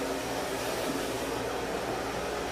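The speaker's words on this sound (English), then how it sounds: "you take your blow dryer at the highest setting at the most heat" A handheld blow dryer runs continuously at its highest heat and speed setting, a steady close roaring whoosh of air with a low motor hum throughout.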